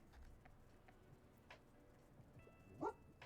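A cartoon puppy in the cozy game Tiny Bookshop gives a single short bark near the end, faint and brief over soft ambient background with light ticking.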